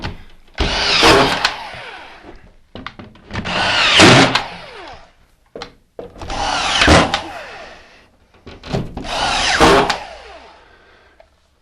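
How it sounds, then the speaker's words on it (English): A screw gun drives screws through wall sheets into a nailer in four separate bursts, each a rising, whirring drive lasting about a second or two, with short pauses between them. The sound is close and loud, and no one talks. "Take your screw gun."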